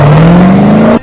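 A Chevrolet Camaro engine revs loud and close in one short, steadily rising drone that stops suddenly at the end.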